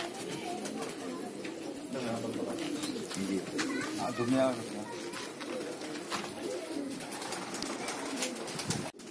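Soft, steady cooing of pigeons fills the background while someone talks over it nearby.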